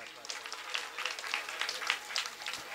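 Audience clapping at a recitation gathering, a steady patter of many hands at moderate volume that runs throughout with faint voices underneath.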